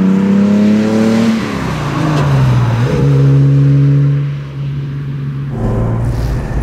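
A 1966 Jaguar E-Type 3.8 Coupé, a restored classic sports car, revs hard while driving. Its loud, close engine note climbs, eases briefly, then climbs again in a strong, steady drone.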